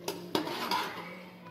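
Metal pot and utensils clatter on a stove as saalan finishes cooking, with three sharp clanks close by in the first second followed by a softer lingering ring and faint kitchen noise.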